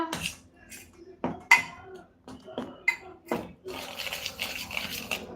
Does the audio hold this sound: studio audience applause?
no